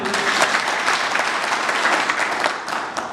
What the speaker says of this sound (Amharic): አጨብጭቡ ለጌታ።